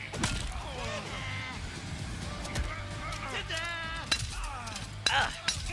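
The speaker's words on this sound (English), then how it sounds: "It's like glass breaking" Glass-shattering effect from a Mortal Kombat 11 fighting game match at a 2019 pro tournament grand final, a few sharp crashes and clinks over busy game sound and commentary.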